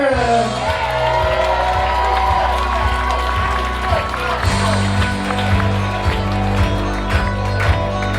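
At a wedding reception, guests clap and cheer as a couple from the bridal party is introduced. The steady crowd noise sits under pulsing music, and an announcer speaks over it.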